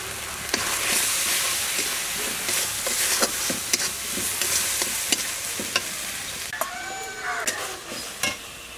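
Spices sautéing and being stirred in a pan while cooking potol dorma, a steady sizzle broken by repeated scraping clicks of the spoon, close and alone.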